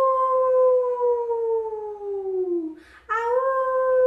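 A voice imitates a wolf howling, drawing out one long, loud, smooth howl that slowly falls in pitch and fades. A brief breath follows, then a second howl begins, close and alone.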